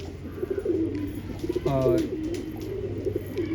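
Rampuri Kalanch pigeons coo close by, low throaty rolling calls with one clear warbling coo in the middle over soft background noise, and a voice speaks briefly.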